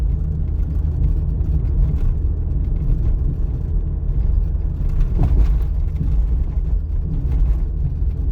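Continuous low rumble and road noise inside a car driving at about 50 km/h along a potholed city avenue. The hum stays steady throughout, with no talking.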